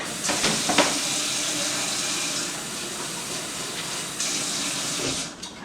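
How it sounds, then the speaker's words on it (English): A splash of water hits a hot pan of sautéing vegetables, giving a steady hissing sizzle with a sharper burst near the start and another swell later, close and fairly quiet, with no talking. "Splash of water."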